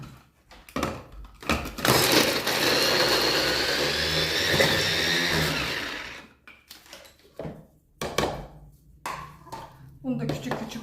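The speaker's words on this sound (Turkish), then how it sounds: "Soğanla sarımsağımızı da aynı şekilde şöyle bölelim. Robotumuza atalım." A food processor chops onion and garlic with a loud, steady motor whir that runs for about four seconds and then stops. Speech comes before and after it.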